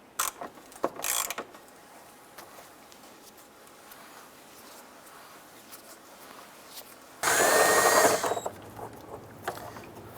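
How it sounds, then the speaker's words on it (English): A 3/8 socket ratchet loosens the bolt holding the expansion tank on a 2002-2008 Dodge Ram 1500. Faint clicks and handling noises come first, then a loud burst of rapid mechanical whirring about two seconds long, followed by scattered lighter clicks. "Using our 3/8 socket, we're going to go ahead and loosen and remove this bolt holding our expansion tank."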